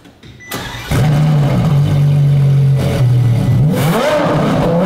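A supercar engine cranks and fires up, then settles into a loud, steady, throaty idle before a rising rev near the end, close by and with no talking.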